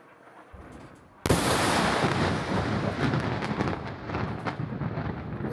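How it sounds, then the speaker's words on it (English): Recorded explosion in Lebanon, heard as a sudden loud blast that gives way to a long, dense, rumbling roar, played back without any talk over it. "this is an explosion in Lebanon"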